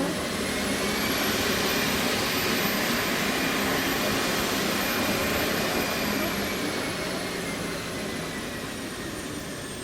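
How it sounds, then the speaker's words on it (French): A loud jet engine of an Aérotrain roars steadily, its high whine beginning to drop and the rumble easing slightly toward the end as it is shut down. "il coupe le moteur une dernière fois"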